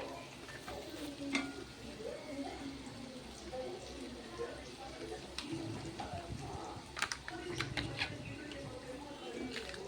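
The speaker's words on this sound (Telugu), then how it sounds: "కొంచెం వేడి ఉండే వరకు ఫ్రై చేసుకోవాలి అన్నమాట." Mushroom manchurian frying and being stirred in a pan, a steady soft sizzle with scattered spatula scrapes and clicks throughout, mixed with faint background noise.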